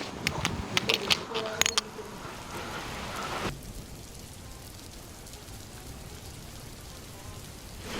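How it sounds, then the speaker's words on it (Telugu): Steady rain hiss fills the background, with a burst of louder activity and brief voices early on before the rain continues alone. "వర్షం పడుతుంది."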